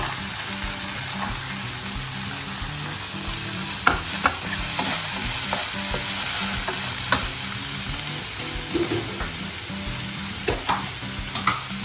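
Peas, carrots and beans stir-fry in a pan for a quick evening snack, giving a steady close sizzle with scattered spatula clicks and scrapes.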